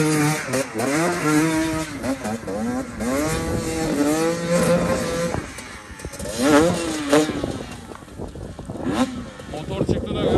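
Enduro motorcycle climbing a rock, its engine revving in rising and falling bursts as the rider works the throttle, close and loud, with people shouting and talking around it.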